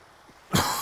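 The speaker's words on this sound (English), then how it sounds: "Take a big breath in and force a cough, clear out your lungs." A single forced cough during a qigong lung-clearing breathing exercise, a sharp burst after a quiet half-second, followed by a breathy exhale tail, close and clear.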